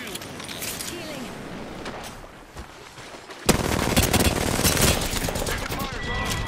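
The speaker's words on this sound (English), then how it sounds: "Getting shot at." Gunfire in the battle royale game Apex Legends, first sparse shots, then a sudden loud, sustained burst of rapid automatic fire that continues to the end, under voices in game.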